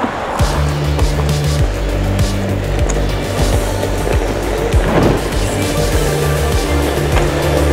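A Onewheel single-wheel electric board being ridden: a constant loud rolling whir from the wheel, with scattered clacks and thumps from the ground, close and without talk.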